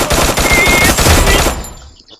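Rapid automatic gunfire in the Free Fire mobile shooter, a dense burst of shots that stays loud for about a second and a half, then cuts off sharply and trails into silence.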